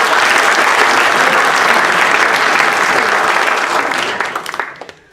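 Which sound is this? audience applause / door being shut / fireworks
audience applause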